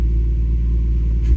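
A turbocharged Lexus IS200 engine idles steadily right after starting, a loud, close, continuous low rumble with a faint rise in pitch near the end.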